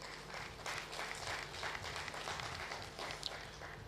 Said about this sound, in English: Let us give our first speaker a thunderous round of applause